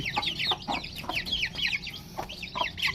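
A hen clucks repeatedly in short rhythmic bursts, close and clear, in a backyard flock with faint background noise and no talk.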